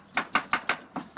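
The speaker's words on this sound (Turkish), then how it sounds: "Salatalarımızı da doğrayalım abi içine atak." Knife chopping salad vegetables on a board, six crisp evenly spaced chops in quick steady rhythm, close and clear with no talking.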